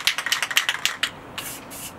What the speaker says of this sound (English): I'm basically gonna spray paint it burgundy and yellow, because I think that'll look tight.